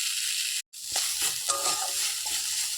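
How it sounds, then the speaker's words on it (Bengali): Kharkol leaves dry-frying in a pan, a steady bright sizzle with stirring scrapes, cut by a brief dropout early on, then continuing close and even with no voices. "এটাকে ভালোভাবে একবার শুকনো শুকনো করে ভেজে নিতে হবে"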